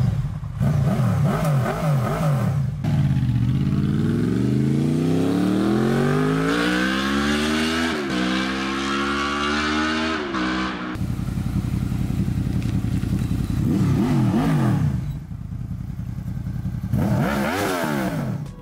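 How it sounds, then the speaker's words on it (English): A Honda VFR V4 motorcycle engine revs hard, close and loud, its pitch climbing in long sweeps and then dropping back in several repeated throttle blips, with no talk over it. "my VFR is the best sounding bike that is out there on the market today"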